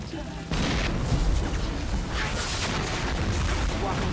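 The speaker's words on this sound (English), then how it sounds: "Don't mind the fact that there's an explosion happening right here." A booming explosion in the video game Far Cry 5 bursts in and rumbles on as a dense, loud roar with crackling debris, filling the whole stretch.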